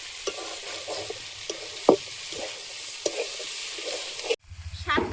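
Shrimp coated with salt and turmeric is stirred in a hot pan and fries with a steady loud sizzle, broken by scraping and clinking of the spoon. The sizzle cuts off near the end and low knocking follows.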